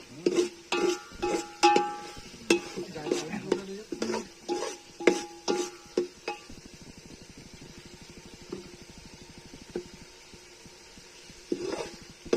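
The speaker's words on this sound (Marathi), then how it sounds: "याला नीट पूर्णपणे हलवून घ्यायचं तेल सुटेपर्यंत." Chicken masala stirred in hot oil in a pan: a run of loud, close spoon scrapes and clatters over a soft sizzle, then a quieter stretch of steady frying with a low hum before a few more stirs.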